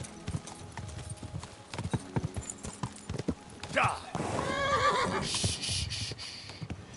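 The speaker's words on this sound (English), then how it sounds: "Easy, good horse." Horse hooves clip-clop steadily while a horse gives a loud whinny midway, in the medieval game Kingdom Come Deliverance 2; a rider's voice talks over parts of it.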